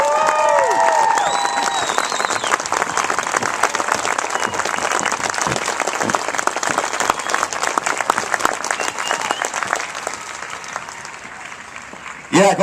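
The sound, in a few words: applause and cheering for new Air Force enlistees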